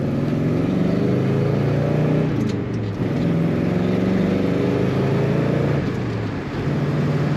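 A 1970 Oldsmobile Cutlass Supreme convertible with a three-speed manual revs its V8 steadily and loudly up close, the deep exhaust note rising and falling through a few throttle blips.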